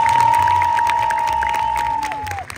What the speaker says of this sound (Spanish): Si quieres que gane ella, regálale el aplauso.